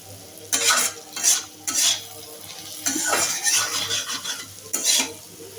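Cabbage is stir-fried in oil in a pan, with a utensil scraping and tossing in short bursts over a soft, continuous sizzle. The sound is close, and no one speaks.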